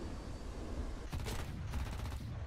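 Cannon fire from a jet fighter in a combat flight game, heard as two dense bursts of rapid shots rising over a steady engine roar.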